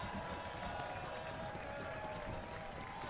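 A loud Sunday crowd at an Oakland Ballers baseball game in the 8th inning, a steady, diffuse roar of cheering and clapping that stays even throughout, heard from the broadcast position.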